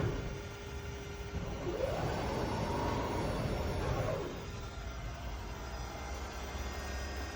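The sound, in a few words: electric Jaguar with Lexus drivetrain driving in reverse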